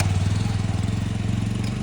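A broken-down motorcycle's engine running close and loud, with a rapid, even thumping pulse through its short span.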